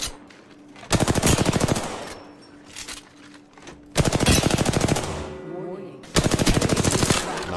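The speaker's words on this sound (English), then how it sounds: "I shot at an enemy." Bursts of rapid automatic weapon fire in a battle royale video game, three loud, close volleys of a second or so each, separated by brief pauses with quieter game sounds in between.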